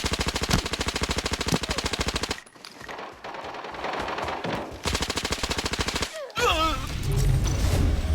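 Rapid automatic gunfire from the shooter game Arena Breakout rattles in loud, dense bursts that break off briefly, resume, then give way to a fresh barrage, with a short vocal sound near the end.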